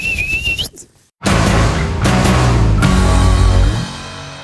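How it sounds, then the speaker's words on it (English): A referee's whistle sounds one short, shrill rising blast for full time, then drops into a loud, continuous wash of broadband noise. "would you do the honours, please, and blow the full-time whistle?"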